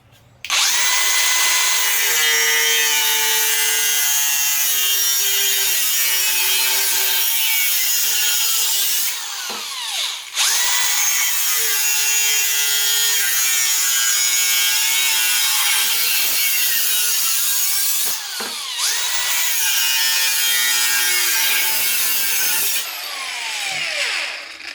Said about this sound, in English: we're going to be cutting some 50 by 50 steel posts, so nice and thick